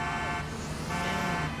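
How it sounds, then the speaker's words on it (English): A siren-like alarm in the video game GTA 4 wails steadily and loudly throughout, a continuous tonal drone with layered harmonics and a slowly shifting pitch, no voices over it. "just waiting for this alarm to finish"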